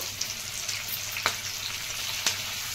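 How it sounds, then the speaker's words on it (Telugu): Sliced onions with green chillies and curry leaves frying in a pan over medium heat, giving a steady close hiss of sizzling oil with a few faint stirring taps. "ఈ ఉల్లిపాయ ముక్కలు దోరగా వేగాలి, మీడియంలో పెట్టుకొని."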